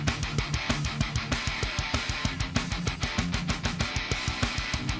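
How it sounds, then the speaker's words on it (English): Steady strummed electric guitar chords in a fast, driving rhythm, accented evenly throughout, with bass and drums underneath and no voices. "Using just the same rhythm guitar part as the first chorus, it sounds like this."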